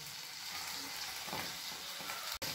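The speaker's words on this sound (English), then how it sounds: "Fry it till the potato gets cooked." A potato and tomato curry with turmeric fries in a pan, giving a constant, fairly loud hiss and crackle that runs unbroken with no voices.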